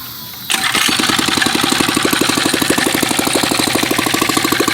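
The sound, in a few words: 4-stroke motorized beach cruiser bicycle engine starting and idling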